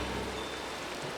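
Rain falls steadily in the Minecraft Cobblemon game, a dense, even hiss of downpour that stays constant throughout, with no voices.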